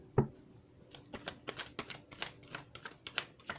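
Tarot cards being shuffled by hand: a quick series of soft, crisp riffling taps and slaps at an irregular rhythm, fairly faint and close.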